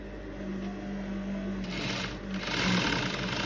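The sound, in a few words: sewing machine stitching shirring lines on fabric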